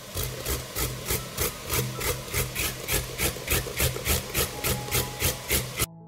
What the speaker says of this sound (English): I will grate 1 carrot.